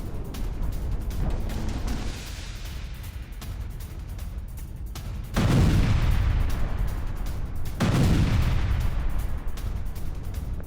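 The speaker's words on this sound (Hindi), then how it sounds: "धमाकों से दहला है डोनेट्स्क का माकीवका" Explosions from a JDAM bomb attack in Makiivka, Donetsk, heard as a rumbling background that erupts into two loud, heavy booms, each followed by a long, decaying roar, with no talk.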